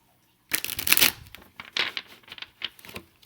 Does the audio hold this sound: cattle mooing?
no